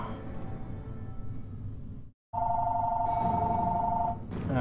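Telephone bell ringing in a steady, continuous tone, fairly loud, with a brief gap partway through, over a dense background of game sounds.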